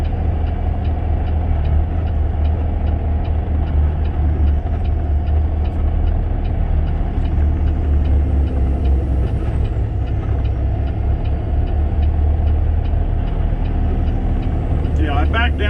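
A truck engine drones loudly and steadily while downshifting on a mountain pass, with a heavy low rumble and road noise throughout and a voice talking over it.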